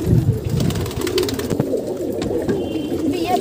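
Pigeons cooing in a steady, low murmur over dense background noise, with the coos blending into continuous rumbling sound; no talking.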